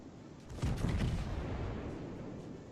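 A salvo from the main guns of the battleship Big Mamie in World of Warships: a heavy, booming blast that hits suddenly, then rolls off into a long rumbling decay.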